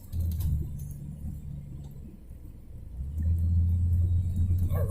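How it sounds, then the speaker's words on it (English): Heavy rush hour traffic on Interstate 95 in Jacksonville, Florida, four lanes heading toward the Fuller Warren Bridge with a big truck among them: a steady low rumble of engines that swells louder toward the end, with no talk. "There are 4 lanes of traffic there heading to the Fuller Warren Bridge."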